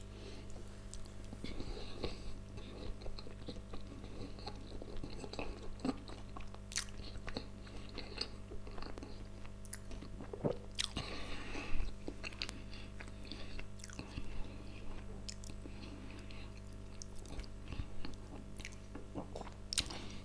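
Close, soft chewing of sushi rolls, gunkan and Norwegian salmon, with steady wet crunches and squishes over a constant low hum, and no talk during the eating.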